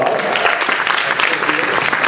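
An audience at a convention's opening ceremonies applauds a guest of honor, a dense, loud, steady wash of clapping with crowd noise mixed in.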